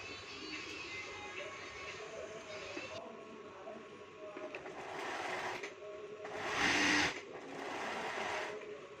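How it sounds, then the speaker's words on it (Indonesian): An electric sewing machine runs in steady whirring bursts while stitching slippery satin panels of a party dress, the hum changing pitch and stopping between runs, fairly close with no talk. "Sekarang ini menjahit untuk nat bagian belakang."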